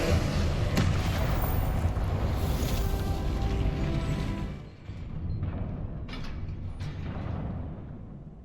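A Confringo blasting curse spell is cast in the Hogwarts Legacy video game, heard as a loud sustained rumbling blast that fades and breaks into a few sharp crackling bursts.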